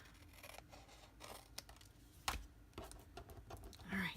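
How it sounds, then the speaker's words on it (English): Metal snips trim cardstock for a handmade snowflake card, giving a few soft, quiet snipping clicks close by, with a brief sharper snap partway through and light rustling around them. "use my snips to trim off"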